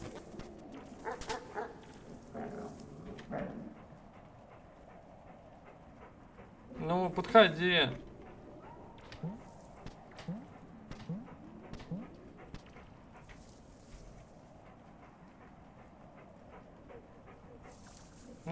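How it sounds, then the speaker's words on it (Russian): A dog in the video game Animal Well lets out a short burst of barks and whimpers partway through, at moderate loudness, against faint game ambience and occasional quiet talk. "тупая собака"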